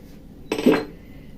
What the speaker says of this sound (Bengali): এটা দিয়ে ফাটাবো এলাচটা